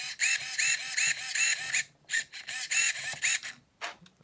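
Steering servo on a radio-controlled car sweeping back and forth, a fast buzzing whir in rhythmic pulses with short gaps between them, close and fairly faint.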